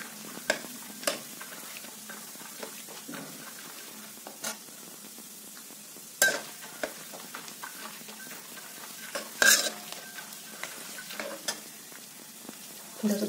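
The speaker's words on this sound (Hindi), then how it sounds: "काजू बादाम को थोड़ा सा भूनेंगे।" Cashews and almonds are roasted in a kadai, with sparse spatula scrapes and clinks against the metal over a faint, quiet sizzle.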